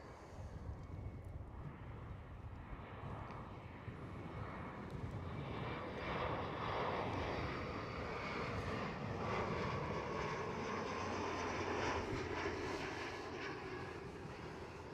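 A KLM Cityhopper Embraer E175 passes at Schiphol, a continuous jet engine roar that builds slightly and holds strong through the middle before settling, with light wind noise and no talk.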